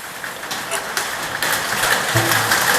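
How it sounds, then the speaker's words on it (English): Heavy rain pounds on a workshop roof in a dense, continuous hiss that swells louder partway through, with faint clanks and a voice briefly under it. "That rain is really coming down now."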